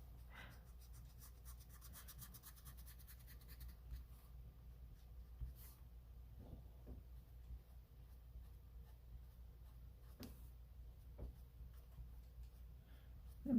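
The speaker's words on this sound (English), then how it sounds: "I like these pencils for precision erasing." Faint, quiet scratching and rubbing of an eraser pencil working over colored pencil on paper, in short intermittent strokes with small taps between them, close and soft against a low background hum.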